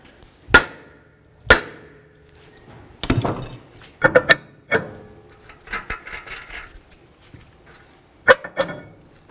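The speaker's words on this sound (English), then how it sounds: "I'm going to continue with my hammer, and I'm going to give this a couple loving bonks just to break it free from the hub" A hammer strikes the rear brake rotor of a 2012-2020 Nissan Pathfinder to break it free from the hub, a series of sharp metallic clanks with ringing tails and irregular gaps, close and loud, with smaller rattles between the blows.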